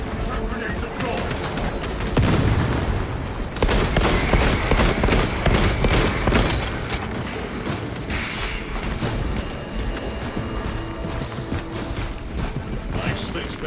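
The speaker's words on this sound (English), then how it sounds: "Frag grenade deployed." Gunfire and a frag grenade blast in Warhammer 40,000: Space Marine 2, a dense, loud stream of rapid shots and mechanical clatter with a heavier burst around the middle, mixed under talking voices.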